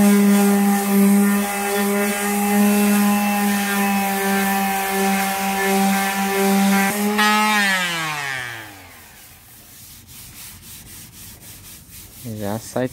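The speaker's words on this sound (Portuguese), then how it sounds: "Acho que eu vou lixando" A power sander hums loudly and steadily while sanding a car body, a Volkswagen Gol, then winds down to a stop, followed by a few light clicks and scraping sounds.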